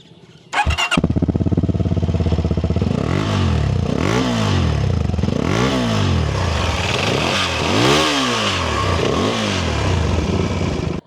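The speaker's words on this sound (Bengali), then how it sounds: "ইঞ্জিন স্টার্ট সাউন্ডটা," A motorcycle engine starts up close at the exhaust silencer, catching after a brief crank, then is revved repeatedly, rising and falling in loud surges with no voices.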